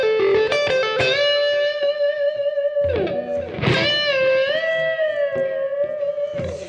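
An electric guitar plays a lick with gain and delay: sustained, distorted bent notes with bright harmonics and repeating echo tails, loud and close, with no talking.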